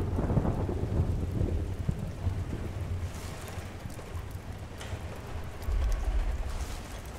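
Thunder from the video game Battlefield Bad Company 2: a deep, rolling rumble that swells and fades over several seconds, mixed with steady rain-like hiss and no voices.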